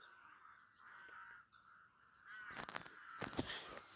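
A bird calls with harsh, raspy cries, faint at first and then louder and closer in a short burst of calls near the end.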